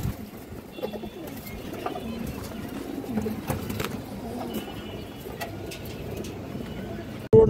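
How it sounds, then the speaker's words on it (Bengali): A pigeon coos in low soft repeated calls against a quiet room background, with faint scattered noises and a sudden sharp thump at the very end. "এই দেখেন খুবই সুন্দর একটা কবুতর"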